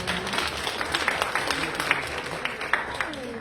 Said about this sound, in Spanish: Gracias, recibimos con un aplauso.